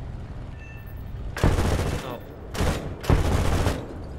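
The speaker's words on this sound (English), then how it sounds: "Oh, I see some gunfire." Bursts of aircraft gunfire in a Bf 109 G-14 air combat game over Stalingrad, three loud, rapid fusillades each lasting about half a second, with a brief voice exclamation before them.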